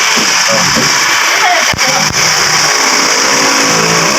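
A 2023 Ford Ranger pickup truck engine runs steadily and loudly up close, a constant mechanical hum broken by two brief dips.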